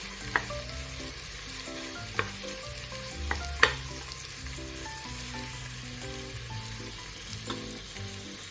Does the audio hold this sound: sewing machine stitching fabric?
no